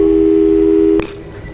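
A steady electronic phone tone from Portal 2 hums for about a second, then cuts off with a click, leaving a faint background hum.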